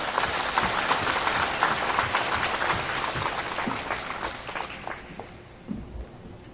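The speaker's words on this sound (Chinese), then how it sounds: "让我们掌声欢迎" A seated audience applauds to welcome a speaker at a Buddhist sharing gathering in Kaohsiung, Taiwan, dense steady clapping that fills the hall then thins and fades out near the end.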